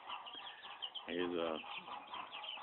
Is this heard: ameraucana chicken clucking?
yes